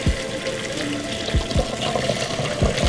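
Soaking water from salt fish poured out of a pot, a steady close stream of splashing liquid with a few low glugs, continuous and fairly loud.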